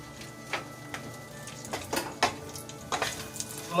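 Pistachios, almonds, cashews and raisins go into a pan of frying whole spices for saffron rice, giving a soft, quiet sizzle broken by scattered clicks and scrapes of stirring.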